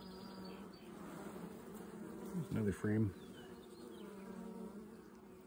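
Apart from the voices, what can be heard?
honey bees buzzing around an open hive frame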